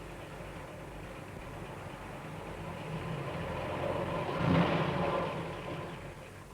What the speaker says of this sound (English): And Jonathan drives his truck round to the bakery.